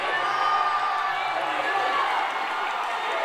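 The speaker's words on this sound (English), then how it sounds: "And the crowd, they go wild here." A stadium crowd roars and cheers continuously at an under-19 India vs Nepal football match at the Golden Jubilee Stadium, a dense, sustained wall of noise with whoops and clapping throughout.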